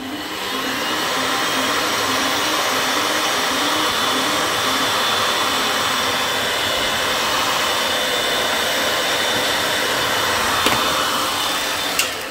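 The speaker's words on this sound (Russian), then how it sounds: "Пыталась подсушить, а фен у меня очень сильный, мощный" A powerful hair dryer roars steadily at full blast, a constant loud rushing whoosh with no talking, drying a craft piece.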